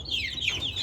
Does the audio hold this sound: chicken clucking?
yes